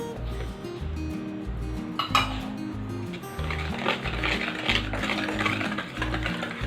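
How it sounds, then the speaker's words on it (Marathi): Yogurt and powdered sugar being whisked in a bowl for rava cake, a rapid rhythmic clinking and scraping of the whisk against the bowl, close and steady, with no voices. "साखर पूर्ण विरघळेपर्यंत आपल्याला हे फेटून घ्यायचे"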